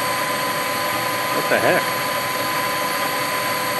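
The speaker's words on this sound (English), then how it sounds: "Start your engine, man." Engine running on wood gasifier fuel after a grate modification, a steady continuous drone throughout with a brief voice exclaiming midway over it.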